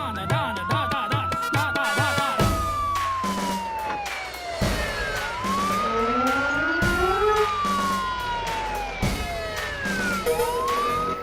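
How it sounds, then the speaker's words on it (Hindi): A police jeep siren wails in repeated rising and falling sweeps, loud and close, cycling continuously and alone. "पुलिस के जीप की सायरन है।"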